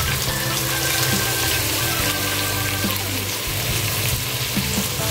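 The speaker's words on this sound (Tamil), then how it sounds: "நல்லா வெங்காயம் வணங்கட்டும்" Onions frying with salt in oil for mushroom biryani, a dense, loud, constant sizzle close up, with a few faint scrapes underneath and no talking.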